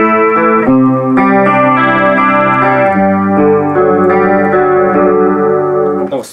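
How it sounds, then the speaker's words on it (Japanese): An electric guitar run through a chorus modulation effect plays a sequence of clear, shimmering chords and notes, loud and close, with the distortion switched off and no talking. "揺らし系のエフェクターでございます。 コーラスとかですね。"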